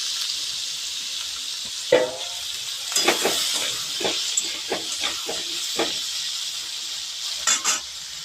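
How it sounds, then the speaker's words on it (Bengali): Potatoes fry in hot oil in a kadai for a vegetarian cauliflower dish, giving a constant bright sizzle and hiss broken by several sharp clattering bursts of stirring, close and clear with no talk. "গরম তেলের মধ্যে এবার আমি আলুগুলো দিয়ে দেব।"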